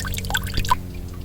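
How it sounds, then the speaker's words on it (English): Clean drain water drips into a bucket, a few small distinct drips over a soft watery background, close and fairly quiet. "it's catching all the water from the drain, and it's just clean water"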